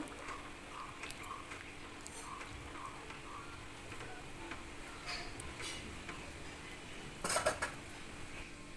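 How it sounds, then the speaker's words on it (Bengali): Metal utensil scraping and clinking against a cooking pot as gravy is stirred, light intermittent taps and scrapes over a steady kitchen hum, with a louder clatter near the end. "এবার সুন্দর করে নেড়েচেড়ে একটু ফুটিয়ে নেব"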